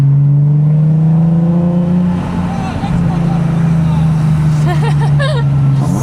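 A Nissan 370Z Nismo engine drones steadily on track at Spa, loud and close as it holds revs and rises slightly near the end, with squealing from another car and speech partly buried underneath.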